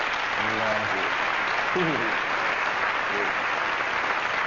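A studio audience applauds in a steady, dense wash of clapping at a 1997 comedy retrospective, with brief spoken voices surfacing beneath it.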